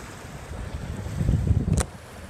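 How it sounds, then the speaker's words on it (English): Heavy six-to-eight-foot surf breaks on the north side of the North Jetty at Port Aransas in a low, rumbling wash that swells to a peak and then eases, with wind buffeting the microphone throughout. "That is brutal surf on the north side of the North Jetty."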